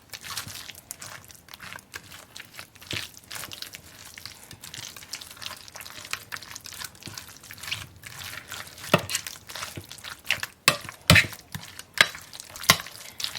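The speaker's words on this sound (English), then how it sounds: "Just kind of stir that around into our zoodles." Zucchini noodles being stirred with sauce for a keto tuna casserole, giving wet squelching swishes and scraping taps that come in uneven strokes and grow busier toward the end, with no talk.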